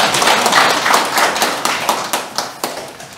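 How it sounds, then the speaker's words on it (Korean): Clapping from attendees at a village year-end general meeting, honoring the outgoing village chief, a short burst of close hand claps that thins into a few scattered claps. "박수 한번 부탁드리겠습니다."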